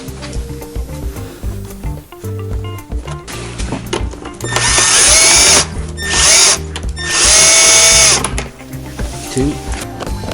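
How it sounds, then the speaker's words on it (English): A power drill backs T27 Torx screws out of a Ski-Doo Rev XP console in two loud whining bursts and a shorter one between them, close up, with soft handling clatter and some talking around them. "we have 5 T27 Torx screws that you remove to take the console off"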